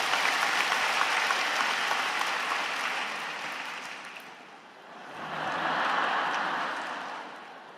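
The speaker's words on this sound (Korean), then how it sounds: "박수가 나오는데, 감사합니다." A church congregation at a Sunday worship service applauds, a broad wash of clapping that fades to a low point partway through, then swells again before tapering off, heard at some distance in a large hall.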